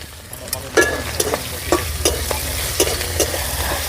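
Prawns for a village-style shapla prawn dish fry in a pan under a constant sizzle, with about a dozen sharp scraping strokes of a spatula stirring them at an uneven rhythm, close and clear, no talk.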